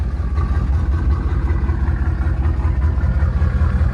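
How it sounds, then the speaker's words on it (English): A 1980 Buick Regal engine, rigged to run on the fuel left in the line, rumbles close and loud in a steady, pulsing low idle for several seconds, with no talking. "She should fire up with what fuel's left in the line here."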